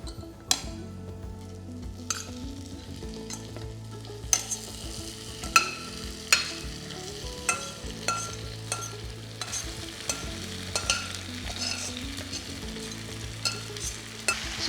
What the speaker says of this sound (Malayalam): ചിക്കൻ ഇട്ട് നന്നായിട്ട് ഇനി ഒലത്തിയെടുക്കാം